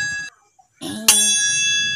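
A single bright notification bell dings and rings out, following a brief chime and a short silence.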